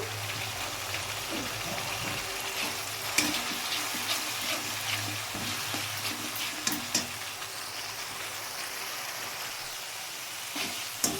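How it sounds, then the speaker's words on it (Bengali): Spice paste with turmeric sautéing in hot oil for a cabbage kofta curry, a steady close sizzle with occasional spoon scrapes and stirring clatter throughout. "এবার মশলাটাকে খুব ভালো করে কিন্তু আমি এটা কষিয়ে নেব"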